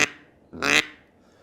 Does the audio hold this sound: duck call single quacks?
yes